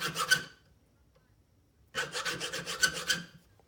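A hand file rasps back and forth cutting small notches into the spine of a knife blade: two short bursts of rapid scraping strokes separated by a quiet pause, close and crisp.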